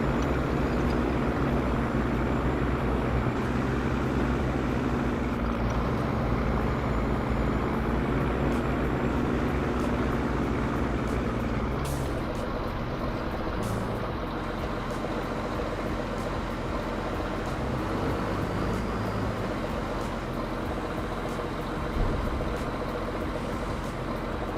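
A tractor engine in the video game Farming Simulator 25 drones steadily and loudly for the whole stretch, a deep continuous rumble with no break and no voices over it.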